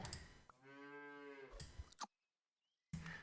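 A cow in the video game Super Auto Pets gives one clear, drawn-out moo, followed by a short silence and a burst of game sound.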